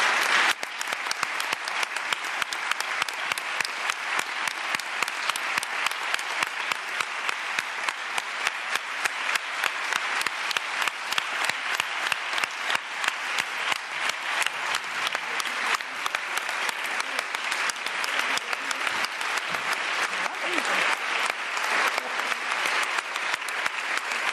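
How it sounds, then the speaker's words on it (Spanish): Sustained audience applause fills the room, steady dense clapping from a large crowd that holds evenly loud throughout without breaks, at an event honoring a woman present in the audience. "yo ese aplauso se lo daría a ella"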